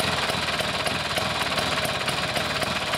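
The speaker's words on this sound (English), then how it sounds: "it's lovely you got the engine that sweet, that first kick" A Vespa scooter engine runs steadily at close range, a continuous loud buzzing drone with a faint regular pulse and no speech over it.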